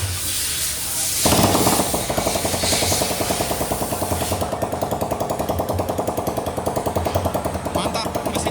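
Carburetted Honda Beat scooter engine, freshly assembled and started without a battery, catches and settles into a loud, rapid, steady idle with a buzzy rattling exhaust pulse close up.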